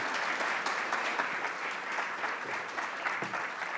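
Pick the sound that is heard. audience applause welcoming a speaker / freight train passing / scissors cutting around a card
audience applause welcoming a speaker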